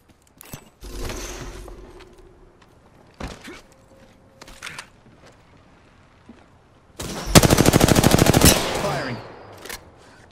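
Automatic gunfire in the battle royale shooter Apex Legends, a loud rapid burst of shots lasting over a second, preceded by scattered thuds, footsteps and brief game sounds.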